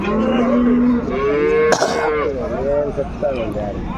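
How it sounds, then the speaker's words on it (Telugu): A Punganur bull lows loudly with long drawn-out moos, followed by shorter calls, amid a bustling crowd at a cattle market with people talking nearby. "ఇక్కడ కూడా కాడైతే ఎద్దులు ఉన్నాయి"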